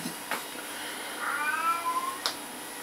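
An indoor cat meows after being fed, a couple of short clear meows against a steady background hum.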